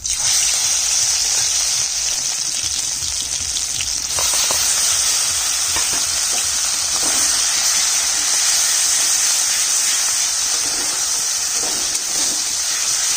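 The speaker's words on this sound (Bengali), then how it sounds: "তাই এখন একটু ভেজে নিলাম ভাজা হয়ে গেছে" Marinated food fries in mustard oil in a pan, giving a loud, steady sizzling hiss that runs unbroken throughout with slight surges and crackles.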